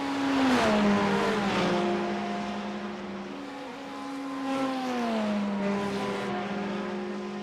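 An orange Corvette and a pink Porsche race each other in a racing video game, their engines droning loudly with rising and falling pitch as the cars shift and accelerate.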